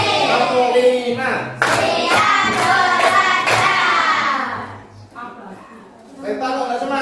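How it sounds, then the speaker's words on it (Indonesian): Schoolchildren in a classroom doing a rhythmic 'tepuk semangat' clapping cheer, a burst of patterned group claps mixed with chanting voices, then quieter talk before another brief clap pattern. "Kita awali dengan tepuk semangat."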